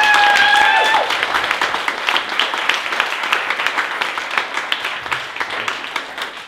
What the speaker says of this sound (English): So huge round of applause to everyone that came out.